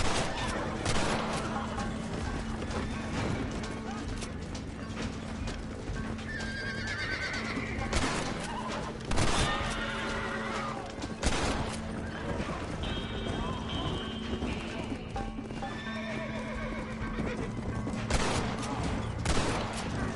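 Gunfire in the Red Dead Redemption video game: sharp shots cracking out over galloping hoofbeats, whinnying horses and music, with people shouting throughout.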